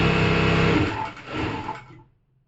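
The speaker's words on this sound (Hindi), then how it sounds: "प्रेस किया मैंने सिलाई मशीन को," A Jack F6 sewing machine runs and stitches in a home boutique, a loud steady motor whir with rapid needle rhythm that slows, briefly picks up again, then stops into quiet.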